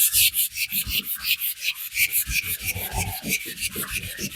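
A car body panel being scuffed with abrasive before epoxy primer, stroked one way and then the other. Fast, rhythmic back-and-forth rasping strokes, about twenty in quick succession, close and steady with no talking.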